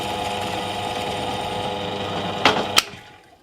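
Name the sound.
drilling hole in wooden guitar neck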